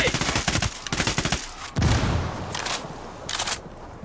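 Rapid gunfire and explosive bursts from a firefight in the video game Ghost Recon Wildlands, loud and dense with repeated volleys and a heavy blast near the middle, with a voice calling out over the shooting.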